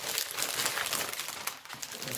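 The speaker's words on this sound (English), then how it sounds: "Let's get that out. Plastic bag." A plastic bag crinkles and rustles steadily up close as a packaged magazine issue is pulled free, with a brief dip in the rustling partway through.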